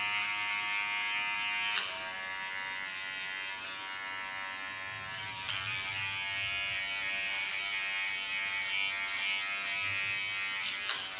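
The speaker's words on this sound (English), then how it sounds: "This is just shaved up with a clipper." Electric hair clipper buzzing steadily while shaving hair for a haircut, a close continuous drone with brief clicks or knocks at a few points and no talk.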